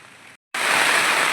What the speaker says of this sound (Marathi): आमच्याकडे असा पाऊस आहे